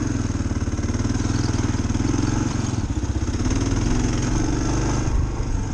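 A 2023 Kawasaki KLR 650 single-cylinder motorcycle engine thumps steadily at a low, even pulse on a trail, loud and close, with a plain stock exhaust note and no talking.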